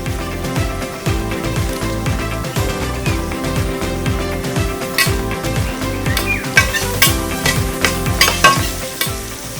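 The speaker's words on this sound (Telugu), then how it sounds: "కొంచెం ఉప్పు వేస్తే ఆనియన్ ఫాస్ట్గా ఫ్రై అయిపోతుంది." Onions frying with a pinch of salt in a pan for a Telangana-style korameenu fish curry, a steady close sizzle broken by repeated scraping stirs, with dense crackle throughout and no talk.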